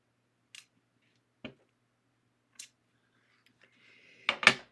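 Scissors cutting out stamped paper card pieces make a few sparse, crisp snips close by, spaced apart, then a quick cluster of louder cuts and a rustle at the end.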